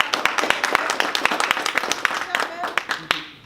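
A small group claps in a quick, irregular burst of sharp, close claps for about three seconds, with a little voice underneath, before the clapping thins out and stops.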